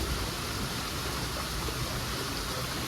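Steady rain falls in a dense, even hiss with no break, broad and constant and fairly close, in an outdoor setting in Puri during the Rath Yatra festival.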